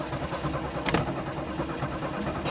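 An old Soviet car engine turning over and trying to catch, a low rough continuous rumble with a brief sharper burst near the start, heard from inside the car at moderate level.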